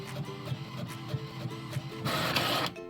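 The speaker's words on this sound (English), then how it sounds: "I will leave the Add Bleed on and click Print," An inkjet printer runs a printable iron-on sheet for a girl's shirt, a close mechanical chatter of the print head shuttling back and forth, ending in a louder, rushing burst as the sheet feeds out.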